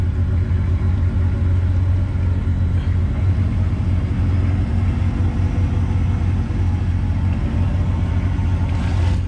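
A Jeep Gladiator stuck in swamp mud is pulled out while engine noise rumbles steadily and loudly throughout, a low continuous drone with slight rises in revs.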